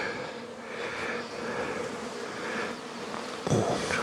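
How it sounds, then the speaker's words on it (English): Steady droning buzz of many honeybees nearby around jars and pails, continuous throughout with a brief louder bump near the end. "Bees are all over that."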